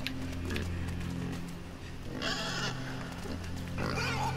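A pig in the video game Inside squeals and grunts in short bursts over a constant low game hum and drone, fairly near and moderately loud.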